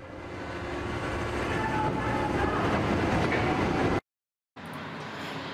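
A Paris metro train runs with a loud, steady rumble and clatter of wheels on rails that builds over several seconds, cuts out briefly, then resumes.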